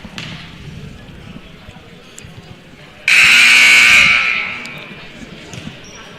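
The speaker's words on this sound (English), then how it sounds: "Buzzer sounds." A loud, sustained buzzer blares for about a second and a half at a freshman basketball game, then fades out over steady background crowd murmur.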